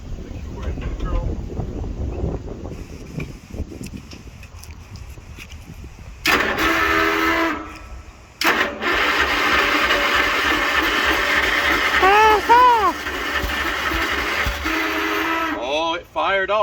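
An old garden tractor engine from an estate sale, hooked to a jumper pack, cranks briefly then fires up around the six-second mark and keeps running loud and steady, with wind buffeting and people talking over it.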